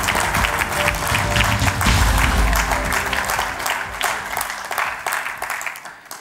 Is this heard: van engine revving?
no